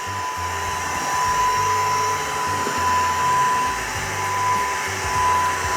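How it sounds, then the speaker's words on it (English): Eufy Mach V1 Ultra vacuum cleaner sucking up spilt rice from a floor, a steady, fairly quiet whine with low motor hum, running continuously and close by with no talk. "we'll vacuum this"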